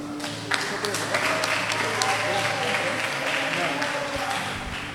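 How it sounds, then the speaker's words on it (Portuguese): A church congregation applauds, a full steady wash of clapping and voices lasting several seconds, with people talking and calling out under it. "Aplauda o Senhor."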